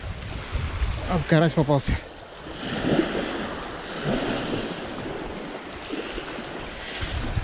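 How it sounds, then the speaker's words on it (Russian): A strong north wind buffets a lakeshore during carp fishing, a continuous rough roar with gusty swells. Someone speaks briefly near the start. "Ветер хороший сегодня."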